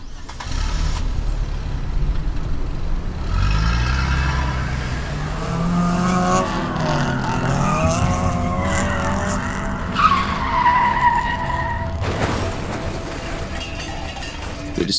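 A car in The Bookwalker skids with rising, wavering tire squeals over a droning engine, ending in an abrupt crunch of a crash near the end.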